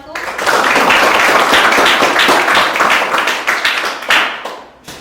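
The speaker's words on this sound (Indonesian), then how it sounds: "Kita kasih tepuk tangan untuk kelompok 1." Loud, dense applause from a classroom audience for the first student group, a sustained wash of many hands clapping that swells quickly, holds steady and then thins toward the end.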